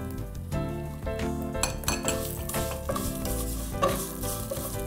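Sliced boiled almonds frying with other ingredients in a pan for Eid sheer khurma, a steady sizzle with stirring and clinks of a utensil against the pan throughout, close and fairly loud, no talking.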